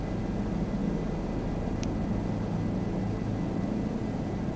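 A helicopter flying in Microsoft Flight Simulator 2020 gives a steady, unbroken engine and rotor drone that holds evenly throughout at moderate loudness, with no talking.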